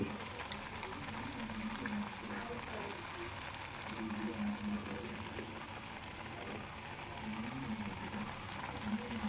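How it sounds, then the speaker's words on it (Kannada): Goli baje fritters bubbling in hot oil give a continuous soft sizzle and gurgle, fairly faint, with people talking over it at times. "ರೆಡಿ ಆಗಿದೆ ಎಣ್ಣೆಯಲ್ಲಿ ಕಾಯ್ತಾ ಉಂಟು"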